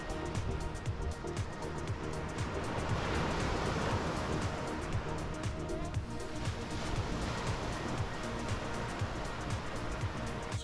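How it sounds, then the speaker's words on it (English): Continuous roar of ocean surf breaking on a beach in Booderee National Park, Australia, steady and fairly loud with rolling swells and a faint wind rush. "the surf is more prominent"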